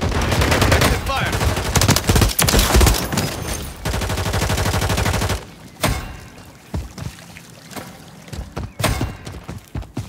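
Gunfire in Modern Warfare 3: heavy automatic bursts rattle loudly for about five seconds, then give way to scattered single shots and thuds that sound farther off.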